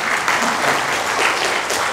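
Steady applause from an audience at a question-and-answer business presentation, dense and continuous clapping throughout with no pauses.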